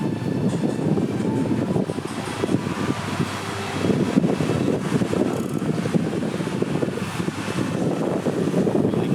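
Steady strong wind at the seashore in Cha-am, Thailand, roaring and buffeting the microphone, a constant dense rush with no breaks and no voices.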